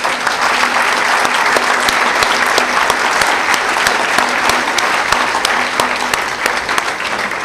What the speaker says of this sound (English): to give him a big round of applause.